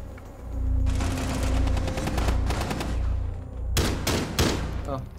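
Gunfire rattles in a Rainbow Six Siege match, with dense bursts of shots over several seconds and a sharper pair of loud blasts near the end, heard close and under faint game noise.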